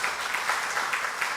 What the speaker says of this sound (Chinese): 咱甲伊拍拍手